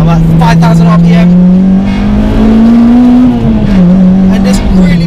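Honda Civic Type R EP3 engine pulling hard through a Mugen twin loop exhaust, a loud steady droning note that climbs in pitch and dips briefly, with someone talking over it inside the car.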